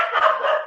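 Dogs bark in a short, loud, close burst that fills the whole moment, with no speech over it.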